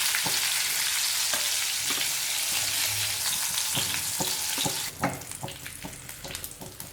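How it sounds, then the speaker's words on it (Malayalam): Goan style bangda mackerel pieces fry in hot oil, a loud dense crackling sizzle that drops suddenly near the end to sparser pops and spoon scrapes. "ഇപ്പം ഈ മീൻ നന്നായിട്ട് തന്നെ ഫ്രൈ ആയിട്ട് വന്നിട്ട് നമുക്കിനിത് കോരി മാറ്റാം"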